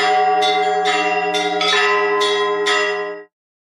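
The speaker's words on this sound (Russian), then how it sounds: "Колокола на пасхальной неделе звучали во всех храмах" Church bells ring from an Orthodox church during Easter week in Chita, with several overlapping strikes in a steady rhythm that resonate loudly and close by before the sound cuts off.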